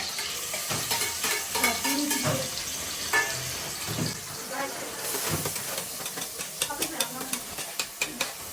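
Chili and onion fry in hot oil in a pan, a loud crackling sizzle with steamy hiss and irregular stirring scrapes, growing into a run of sharp rhythmic clinks toward the end. Someone may be speaking faintly underneath.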